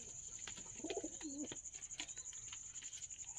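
Pigeon cooing in a pigeon loft, a soft throaty coo rolling twice near the start, with a steady high electrical whine and faint chirps and rustling throughout.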